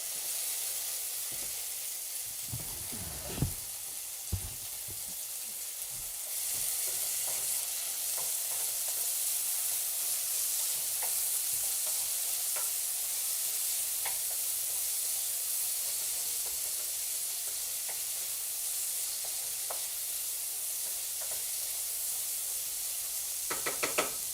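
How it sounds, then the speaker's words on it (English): Minced garlic and seeds fry in avocado oil in a pan with a steady close sizzle, while a utensil stirs and scrapes with occasional louder knocks against the pan. "Minced garlic cooks extremely quickly, so it doesn't need to be long. Put that back in and stir it up."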